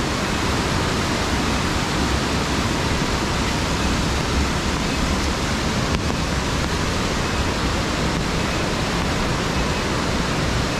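A loud, unbroken roar of a waterfall at Candi Kuning under falling rain fills the scene, steady and close with no pauses or voices.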